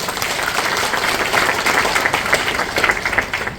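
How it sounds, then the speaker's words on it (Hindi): Audience applause at a talk by a DXN business speaker: a dense, continuous wash of clapping from a sizeable crowd, fairly loud and even for a few seconds, with no talking over it. "एक जोरदार तालियां इसके लिए।"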